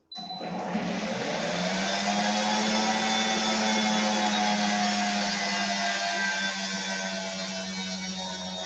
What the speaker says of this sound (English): While the blender is blending